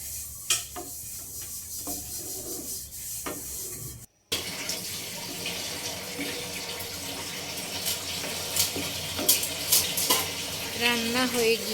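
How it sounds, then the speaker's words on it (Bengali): Semai simmering with fried cashews and raisins, a spoon stirring and scraping the pot over a steady bubbling, watery boil that grows livelier toward the end. "এখন সবগুলো উপকরণ একসাথে মিশিয়ে আর একটা বলক তুলে নিচ্ছি"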